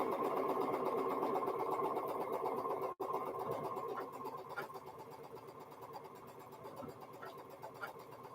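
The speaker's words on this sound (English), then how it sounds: "now I can get busy sewing my darks together again." Sewing machine stitching dark quilt block pieces for a windows-style block, a fast steady mechanical whir with one brief stop near the start before running on, close and alone.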